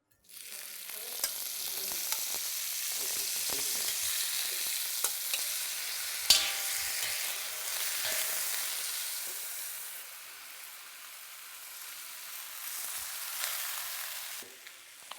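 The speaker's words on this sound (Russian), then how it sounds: "На среднем огне нужно жарить курицу" Chicken frying in a pan over medium heat for Azerbaijani plov, a continuous close sizzle with occasional stirring clicks and scrapes, no voices.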